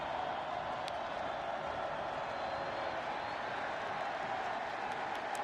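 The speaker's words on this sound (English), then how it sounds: "The crowd really for the first time today getting into it" A college football stadium crowd at a Florida State game keeps up a steady, distant roar of cheering, with faint clapping in a broad wash of noise and no clear peaks.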